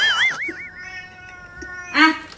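A cat meows twice, a long wavering call followed after a pause by a shorter, louder one, close by with no talking.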